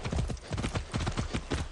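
Horse hooves clip-clop in a steady, close rhythm of repeated strikes, with a faint voice murmuring underneath.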